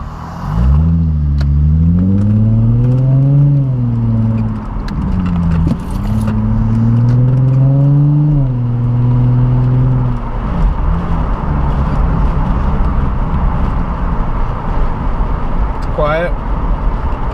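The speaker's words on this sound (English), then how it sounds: "Ooh, got some burbles." A Nissan Skyline with a modified exhaust burbles and revs, its engine note rising and falling in loud sweeps before settling into a rough, steady rumble, with a person talking over it.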